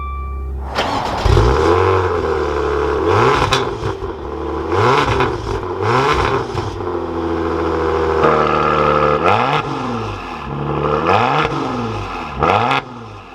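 A 2021 Maserati Quattroporte S GranSport fires up with a sharp starter catch, then settles into a steady idle broken by repeated short, throaty revs that rise and fall close by, a few quick blips near the end.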